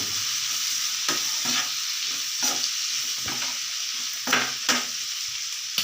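Dried red chillies fry in hot oil in a pan with a steady, close sizzle, broken by a few sharp spikes as they are stirred or tossed; no one speaks.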